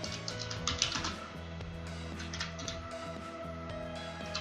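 Computer keyboard typing while looking up a stock on a Status Invest search page, a run of quick close key clicks in uneven bursts over a low steady background hum, with no talking.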